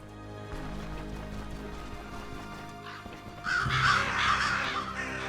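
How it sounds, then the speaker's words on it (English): Crows caw in the fantasy role-playing video game Stoneshard against a steady ambient game soundscape, with a louder burst of cawing near the end and no talking. "Sorry, crows."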